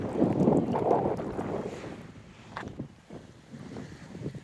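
Gusty seaside wind in Odesa buffets the microphone with a low, rushing roar that swells early and then eases into a softer, steady blowing.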